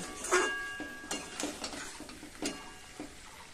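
Chicken and onion frying in a pan, stirred vigorously with a spatula: a soft sizzle runs underneath repeated scraping clatters and clinks at irregular intervals, close by, with no talking.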